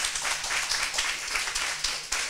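Applause from a crowd welcoming an Ivorian rapper to the stage, brisk clapping with a few sharper individual claps standing out, fairly close and steady over a short stretch.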